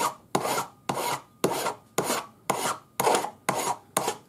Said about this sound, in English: I'm going to file and sand these sides